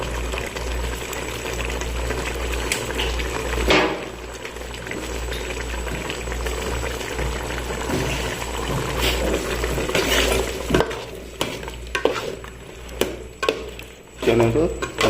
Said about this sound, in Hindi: अब हम इसको अच्छे से भूनेंगे।